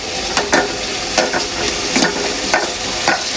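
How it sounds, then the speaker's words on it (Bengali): Potatoes with spices stirred and fried in a pan before cauliflower goes in: loud continuous sizzling broken by regular scraping strokes of a spoon roughly every half second. "আলু ছাড়ার পরে একটু কষাইয়া নিই, এরকম নাড়াচাড়া করছি।"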